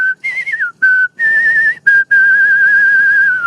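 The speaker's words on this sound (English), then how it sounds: "I've been whistling so many songs from Phantom in the last like week." A person whistles a melody from Phantom of the Opera, close and clear, in bright sustained phrases broken by short pauses.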